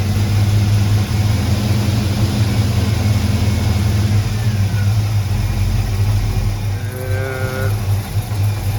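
A car engine runs steadily with a strong low rumble and gentle rises in revs, loud and close throughout, with no talking.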